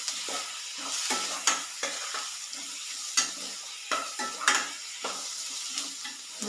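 Ginger-garlic paste hits a hot pan of browned onions for a squid roast, sizzling steadily while a spoon stirs and scrapes against the pan in repeated close, sharp clinks; no voices.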